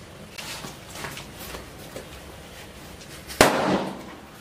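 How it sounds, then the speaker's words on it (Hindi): A homemade mirchi bomb firecracker goes off with one sharp, loud bang near the end, followed by a brief ringing tail, after several faint crackles and pops during the lead-up. "आपने देखा जैसे ये पहला वाला बहुत बढ़िया धमाका था"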